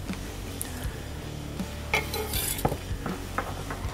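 A knife and fork cut a slice of American Wagyu steak grilled on a Camp Chef Woodwind WiFi pellet grill, producing close scraping strokes and several light clinks against the plate over low background noise, with no talking.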